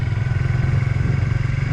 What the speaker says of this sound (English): So remember that the bike is now running